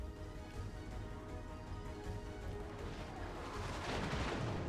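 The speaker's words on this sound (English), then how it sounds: "there goes that last barrage" Naval gun barrage in World of Warships Legends, a low rumbling series of distant booms and roar that swells louder toward the end, faint and continuous rather than sharp, no speech.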